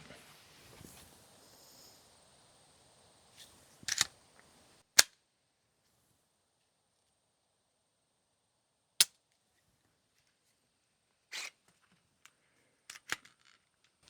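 A suppressed .22 LR Glock conversion kit fires Federal Automatch 40-grain lead round nose rounds: several sharp, muffled cracks at irregular intervals, with near silence between them and a few softer mechanical clicks.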